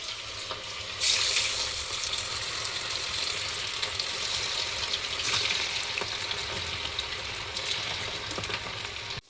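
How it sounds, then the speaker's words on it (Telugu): Chicken pakoda pieces sizzle in hot oil with a steady, dense crackle and hiss that stays fairly loud and close for the whole stretch, with a few brighter bursts of spatter. "ఇప్పుడైతే ఇది ఆయిల్లో వేసేద్దాం రండి."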